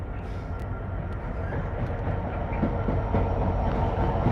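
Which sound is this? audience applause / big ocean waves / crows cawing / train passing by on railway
train passing by on railway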